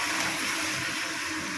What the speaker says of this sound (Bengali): এমনি খোলা রেখেই এটাকে ভালো করে ভেজে নেব আমি